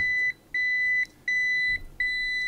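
A gas detector's electronic alarm beeps in four sustained, evenly spaced tones, loud and close, with short gaps between them.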